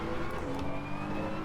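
A race car in the racing game ACC rolls through a corner at Barcelona, its engine holding a steady, continuous drone with a faint higher whine throughout, no speech over it.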